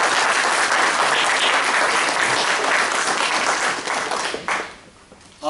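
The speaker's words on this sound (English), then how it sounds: "Let's have a big round of applause for my team of evaluators." Loud, dense applause from a meeting audience at a Toastmasters club event honoring a team of evaluators, sustained then tapering off near the end.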